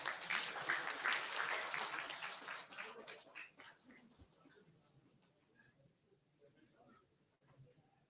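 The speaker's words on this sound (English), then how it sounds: "Let's give a big round of applause" Audience applause at a React developer meetup in Chennai starts loud and dense, thins out after about three seconds, and gives way to quiet voices and faint room noise.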